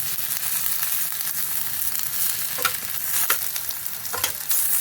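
An egg wrapped in pumpkin leaf fries in a wok with a little oil, giving a continuous close sizzle with occasional louder crackles and spatters.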